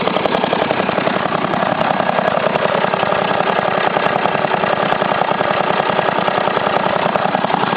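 An Intek 23hp V-twin engine fitted with a Mikuni carburetor and a convoluted homemade intake runs steadily, a loud, close, even chugging idle with a rapid regular pulse and no talk.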